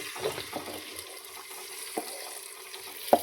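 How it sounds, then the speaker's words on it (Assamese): Uncooked rice tipped into a pot of frying chicken for pulao, with a steady oily sizzle and a few soft scraping stirs and clinks. "এতিয়া চাউলখিনি দি দিম"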